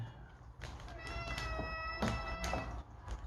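A house cat meows repeatedly near a kitchen counter while pork chops are being marinated, several short plaintive whining meows spaced a half-second apart, close and moderately loud over faint room noise.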